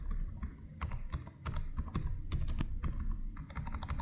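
Typing on an Asus Zephyrus G14 (2025) gaming laptop keyboard, clicky longer-travel keys struck in uneven clusters of rapid taps with small gaps, recorded close with no voices.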